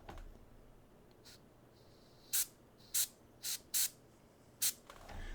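Short bursts of an airbrush spraying paint at 40 psi onto a miniature rock, five or six quick hissing puffs spaced irregularly, close and fairly loud against a quiet room.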